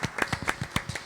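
Applause at a podcast recording as the audience claps for the sound engineer, a quick run of sharp, separate handclaps at an uneven rhythm, close and fairly loud.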